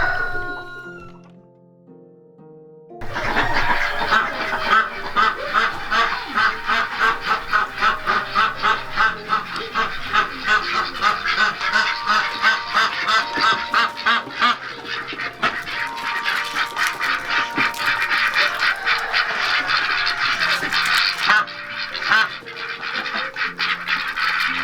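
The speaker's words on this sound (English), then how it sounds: "So we're in the duck house right now." Poultry in a farm sanctuary duck house, including elderly ducks around eight to ten years old, call out in a dense, continuous chorus of overlapping cries lasting over twenty seconds, loud and close.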